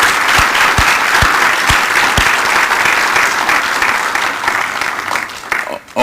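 An audience at an African American Southern art exhibition event applauds the board members, a dense, sustained round of clapping with a few low thumps early on, tapering off near the end.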